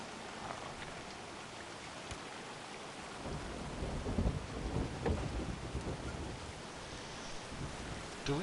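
Steady heavy rain in the GORD video game, with rumbling thunder rolling in about halfway through and then fading under the downpour.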